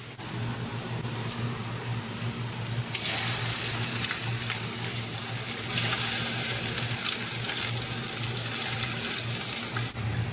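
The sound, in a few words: onions frying with ginger-garlic paste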